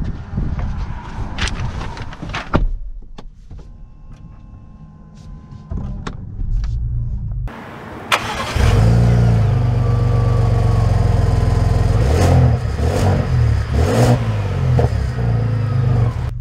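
A 2023 Lincoln Navigator Reserve L long-wheelbase SUV starts off: a few clicks and door or cabin noises give way to a quiet lull, then the engine rises into a steady, close drone with several surges of acceleration.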